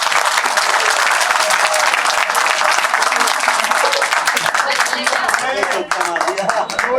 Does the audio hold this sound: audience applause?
yes